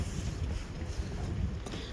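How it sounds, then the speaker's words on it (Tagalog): Steady wind blowing across the microphone on a hiking trail, a continuous low rumbling buffet with slight gusting and no talk. "Mahangin. Malamig yung hangin."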